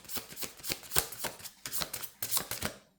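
Tarot cards shuffled by hand, a quick run of crisp riffling slaps and flutters in short bursts, close and fairly quiet, with no talking.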